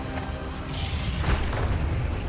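Bomb detonation in the video game Black Ops 6 Zombies during a Z-Rex boss fight: a dense, loud, rumbling boom that fills the whole clip as a continuous roar, with no talk over it.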